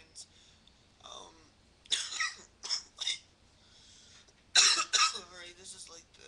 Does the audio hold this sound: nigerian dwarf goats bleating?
no